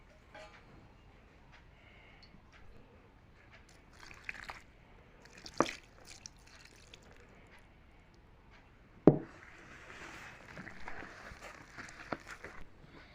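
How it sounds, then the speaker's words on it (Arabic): Hands knead stiff, dry bread dough for plain Egyptian qaraqish, giving quiet sticky squishes and soft slaps at irregular intervals, with a couple of sharper thumps. "لازم نعجنه كويس كده"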